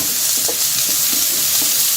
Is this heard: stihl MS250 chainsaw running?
no